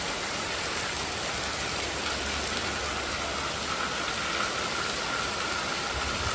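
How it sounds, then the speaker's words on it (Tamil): Dense, roaring downpour with a constant hiss of water pouring onto surfaces, loud and unbroken throughout, no talking. "செம்ம மழை பாருங்க தண்ணி எட்டி போயிட்டு இருக்கு பாருங்க"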